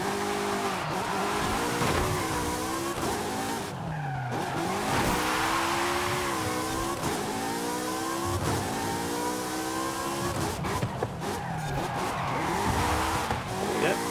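A red Ferrari racing a street circuit in Forza Horizon 5, its engine revving and rising and falling in pitch through repeated gear changes, with tires squealing steadily as it corners hard, loud and close throughout.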